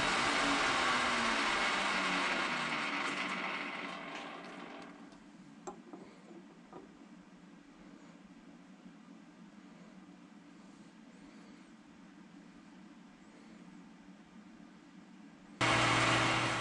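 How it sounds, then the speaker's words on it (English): A lathe with a CCGT insert cuts Delrin, making a loud, steady broadband hiss that fades after several seconds into a quieter machine hum with faint ticks, before a loud burst returns at the end. "This is my first time machining Delrin on a lathe"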